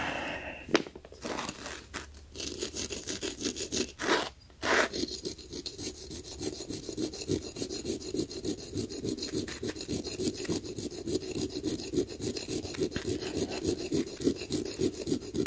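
The metal tip of an Apple MagSafe charger cable is rubbed on the coarse side of a sharpening stone in quick, close rasping strokes that settle into a fast steady rhythm after a few separate scrapes, with no talk.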